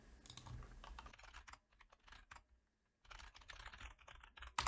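Someone types on a computer keyboard while filling in an account sign-up form: bursts of quick, crisp key clicks, close and clear, with a short pause in the middle before the typing resumes.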